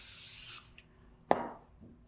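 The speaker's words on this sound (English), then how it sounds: "I'm gonna spray my pan here, my grate." A short hiss of cooking spray onto a small grill grate, then a quiet pause and a sharp tap, close and fairly soft.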